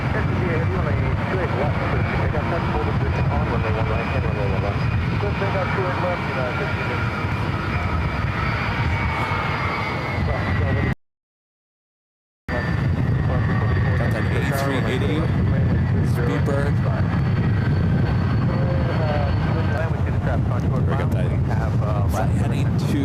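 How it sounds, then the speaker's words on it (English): An airliner rolls down runway 28 left at SFO for takeoff, a loud steady jet engine roar that holds for the whole stretch, with an air traffic controller talking over it throughout. "It's now rolling down runway 28 left."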